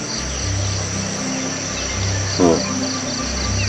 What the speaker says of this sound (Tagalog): Maririnig mo lang dito mga huni ng ibon yan.